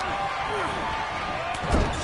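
A heavy body-slam impact in WWE 2K23 lands as a sharp, loud thud near the end, after a stretch of crowd noise, with commentators talking throughout.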